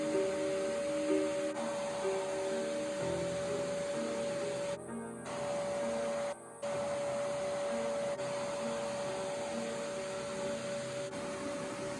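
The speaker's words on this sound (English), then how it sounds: "I used a soft bristle brush and a vacuum to take the dust off most of the moving parts." A vacuum cleaner draws dust from the moving parts of a baby grand piano from the 1800s, a steady whining drone with a high tone running close throughout, cut by two brief dropouts.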